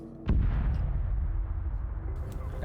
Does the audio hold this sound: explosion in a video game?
yes